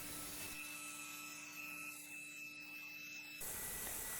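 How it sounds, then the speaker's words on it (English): Steady rubbing and scraping of sandpaper against scrap wood, continuous and close, with a faint constant tone running underneath. "I then finish off with some sanding."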